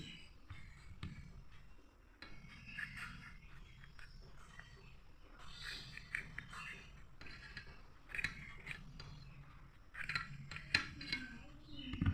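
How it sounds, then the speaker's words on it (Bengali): Pointed gourds (potol) are slit one after another with a blade for cooking, making quiet, close scraping cuts and small clicks in an irregular rhythm, with light kitchen knocks in between. "এই দেখো, পটলগুলো এইভাবে আমি চিড়ে চিড়ে দিচ্ছি।"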